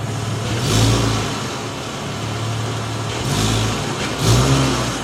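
A 2021 Dodge Challenger V6 revving high in repeated surges, a droning mid-pitched engine rising and falling three times close by with no voices.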